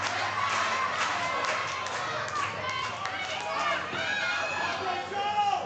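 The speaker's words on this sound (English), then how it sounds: "the crowd is begging JJ to tap out" A crowd at an intergender pro wrestling match shouts and cheers loudly and steadily, urging a wrestler to tap out, with scattered thumps from the ring and a commentator talking over the noise.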